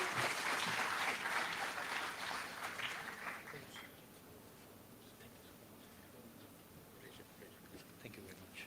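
An audience at a management institute's orientation program claps in a dense, steady burst that gradually fades to a faint patter and room noise.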